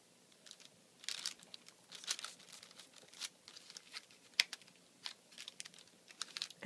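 A paper leaf embellishment for a handmade card being bent into shape, with soft crinkling and crisp little crackles in irregular bursts, close and quiet, with no talk.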